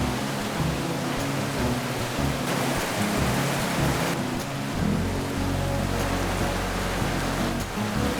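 Heavy rain pours down during a severe thunderstorm in Iowa, a loud dense steady hiss with low rumbling underneath and no voices.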